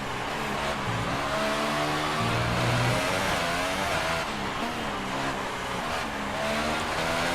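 Williams F1 car in F1 2018 career mode at the Mexican Grand Prix, a high-pitched engine screaming through gear changes with rising and falling revs and brief tire squeal, loud and continuous without talk.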